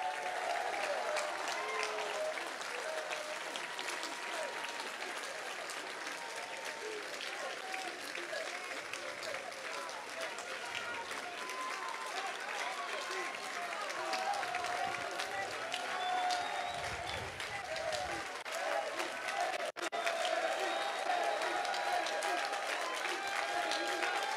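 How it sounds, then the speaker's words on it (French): Sustained applause from a large political rally audience in Marseille greeting deputies coming onto the stage, a dense steady wash of clapping with faint crowd murmur underneath, lasting throughout. "On les applaudit."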